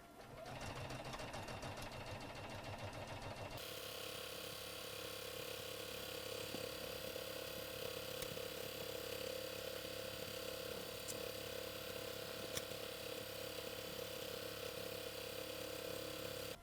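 A sewing machine stitches the seam of a Christmas stocking, back tacking with a quick, rhythmic mechanical clatter for a few seconds before settling into a quiet, steady motor hum with a few faint clicks.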